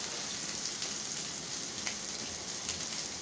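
Pomfret fish frying in about two spoons of oil on a hot tawa over a medium flame, giving a steady, even crackling hiss with faint spattering pops, close up and without pause.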